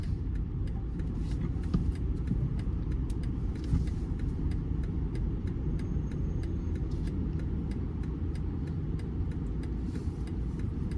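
Cabin of a 2025 BMW 330i M Sport in busy road traffic: a low, steady engine and road rumble with a soft, regular ticking like an indicator running throughout, no talk.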